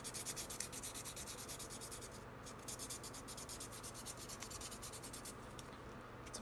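A file rubs back and forth over a slot car guide shoe to remove burrs, a faint, rhythmic rasping scrape repeated in quick even strokes, alone and close.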